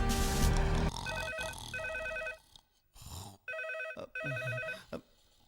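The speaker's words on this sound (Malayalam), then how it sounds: "സാറേ ഫോൺ." A telephone rings in a police station in repeated bursts of electronic trilling, with a short pause between the groups of rings. It is clear and fairly close, and a few other brief noises come in between the bursts.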